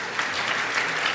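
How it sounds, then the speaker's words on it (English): Brief burst of congregation applause at a Palm Sunday church service, steady, close clapping with no clear talk over it. "I think you were just asking for applause."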